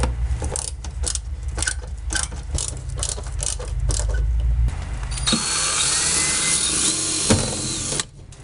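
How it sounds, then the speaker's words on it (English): A power drill drives screws through a bamboo headliner during installation in a 1964–67 Standard or Deluxe car: short ratcheting bursts of motor whir, then a longer, louder sustained run before it stops. "So use those holes to drill and screw"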